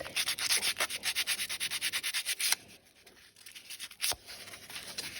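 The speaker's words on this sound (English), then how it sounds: "You can just give it a good savage with your sandpaper." Sandpaper rubbed vigorously over creased painted paper in an art journal, a fast rhythmic scratchy back-and-forth that slows, pauses and resumes with a few strokes, close and alone.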